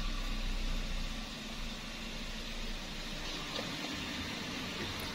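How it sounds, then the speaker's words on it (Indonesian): A Toyota Avanza with 136,000 km, freshly refilled with Shell scooter oil, idles with a steady, even engine hum and broadband rumble throughout, no voices. "Langsung saja kita nyalakan mesin."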